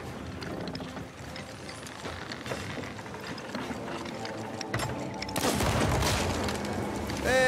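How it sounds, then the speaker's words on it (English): Grenades and firebombs explode on ships in the pirate video game Sea of Thieves, a rattle of gunfire and mechanical clatter building into heavier booming blasts near the end, loud and continuous without talk. "Throw grenades and firebombs on the top of their ships so they don't spawn and shoot us with cannons."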